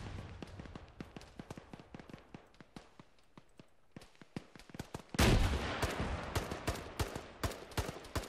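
Rapid gunshots crack in sequence during a custom battle in Arma 3, a steady run of sharp reports that turns louder and denser partway through, with no talking over it.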